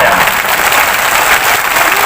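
A crowd claps loudly and steadily throughout a short burst at a political rally in Mandhata, Khandwa, dense, close and unbroken.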